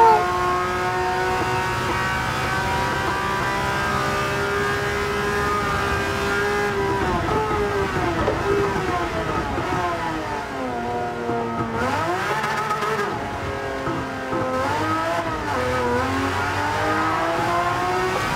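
Race cars in Gran Turismo 7 pulling hard together, engines droning loud and steady as they climb through the revs, with pitch dips at each gear shift and no talk over the roar.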